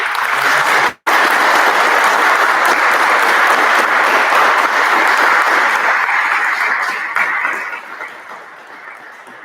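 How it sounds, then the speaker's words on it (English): A large audience applauds at a Grade 9 school graduation ceremony, loud sustained clapping that breaks off for a moment near the start, then carries on evenly and fades gradually toward the end. "So I'm just wondering if we've got to give a round of applause"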